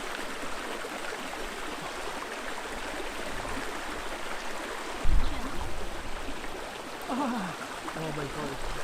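River water runs steadily near Hethpool on St Cuthbert's Way, a continuous close rushing wash, with a brief splash and stir near the middle as feet go in, and low voices faintly under it.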